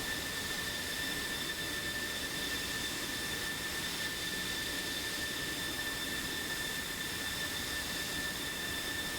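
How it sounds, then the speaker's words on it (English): An F-16 fighter jet roars in a steady, continuous wash of jet-engine noise with a faint high whine, loud throughout with no voices. "See the last F-16 rounding the corner now."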